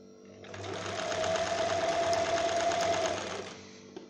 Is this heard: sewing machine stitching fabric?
yes